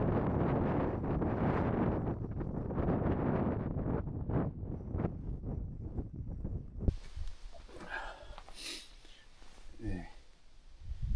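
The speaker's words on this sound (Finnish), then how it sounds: "se kerää jonkun ankaran puuska ja alkaa koko teltta heilua" Strong wind buffets the microphone in heavy roaring gusts with rhythmic flapping of a tent in the Käsivarsi wilderness, then eases to a calmer hiss with faint rustling.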